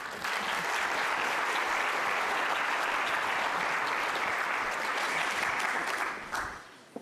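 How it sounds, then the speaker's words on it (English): A sustained round of applause for the speakers at a robotics panel, thick and even across the room for several seconds before tapering off near the end. "let's give our speakers another round of applause"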